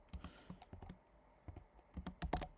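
Code typed on a computer keyboard, soft close key clicks in irregular quick bursts with a brief pause in the middle, heard alone and fairly quiet.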